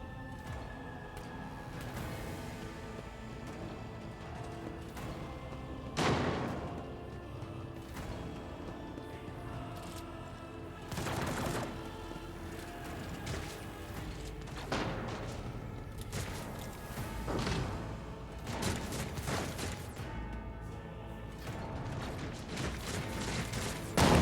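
Gunfire in the Warhammer 40,000: Rogue Trader video game rings out in several sharp bursts over a dense, steady backdrop of game music and mechanical ambience, each shot standing out briefly before the mix settles again.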